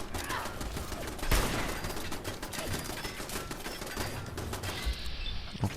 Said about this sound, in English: See if I can take it out with this rifle